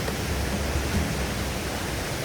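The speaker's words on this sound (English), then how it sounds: "Top of the waterfall." Waterfall at Pipestone National Monument, a steady, dense rush of falling water that stays even and close throughout with no pauses.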